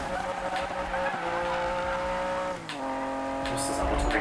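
A Lamborghini in the Need for Speed video game revs and skids loudly and close, its engine tone rising steadily then dropping and climbing again, with tire squeal and a player talking over it.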